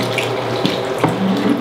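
Water runs from a sink tap in a short, steady splashing stream, close and clear, with small shifts in the flow and no voices.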